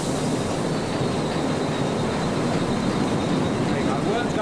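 Flour mill machinery running on the purifier floor of a mill, a loud continuous mechanical rumble and clatter that stays steady throughout.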